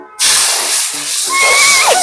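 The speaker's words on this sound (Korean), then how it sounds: "제일 먼저 두피에 뿌리는 쿨링 스프레이입니다." A cooling scalp spray hisses in one steady, close burst lasting about two seconds, with a faint thin whistle near the end.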